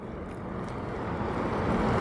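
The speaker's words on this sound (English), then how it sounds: "There's a car passing by, so there's going to be some noise right now." A car passes by outdoors, a low rumbling whoosh that swells steadily louder over two seconds as it approaches, with no talking.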